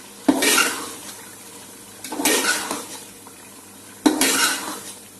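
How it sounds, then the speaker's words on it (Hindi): Peas frying in a pan for matar biryani, stirred in three separate bursts about two seconds apart, each a close scraping sizzle that tails off, with a low sizzle continuing in between. "मटर डालने के बाद इसको थोड़ी देर और फ्राई कर लें"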